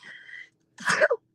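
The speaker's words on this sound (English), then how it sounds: "Excuse me. Bless you." A single sudden sneeze bursts out loud and close after a brief stretch of a faint sustained tone and a moment of silence.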